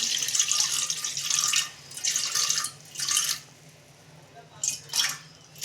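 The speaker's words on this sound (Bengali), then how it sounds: "কড়াই জল দিচ্ছি" Water pours into a wok in several separate bursts of hissy splashing, each lasting about a second, with quiet gaps between them; nobody speaks.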